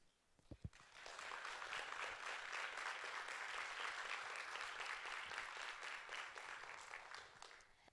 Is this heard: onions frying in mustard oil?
no